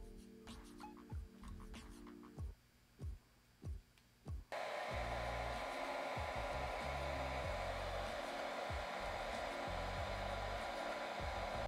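A hair dryer blows cool air over a lace front wig, first in a few short bursts that switch on and off, then running continuously and loudly up close.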